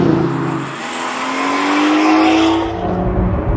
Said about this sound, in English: BMW exhaust notes aside, as stunning as they are